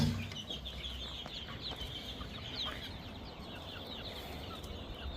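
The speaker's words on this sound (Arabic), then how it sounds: "كلياته دجاج فيومي" Fayoumi chickens, silver and gold, cluck and chirp in a farm pen among young birds, a busy mix of overlapping calls at moderate distance over a steady background murmur.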